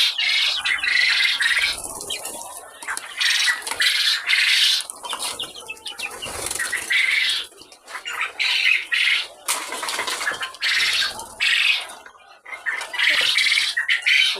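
Caged quails raised for meat squawk and flap their wings in loud, repeated bursts, the shrill calls and wingbeats rising and falling close by with short lulls between.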